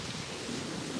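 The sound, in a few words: wind on microphone by ocean waves at sunrise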